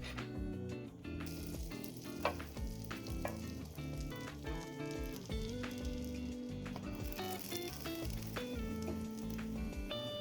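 Burger meat sizzles and fries steadily in a pan for a breakfast burger, a constant dense crackle with occasional louder pops, close and alone without talk.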